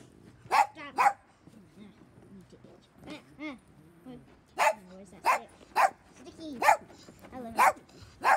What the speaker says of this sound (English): stop with the barking